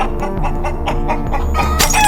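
Animated chicken clucking in a short burst of several clucks, loud and close, set over a steady musical background with no talk.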